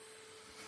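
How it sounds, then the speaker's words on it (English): An AQUA VIVA vacuum cleaner with lost airflow runs with a steady broadband whoosh and a thin constant whine, faint and unbroken over a brief moment. "If we now vacuum a little, we will see what happens."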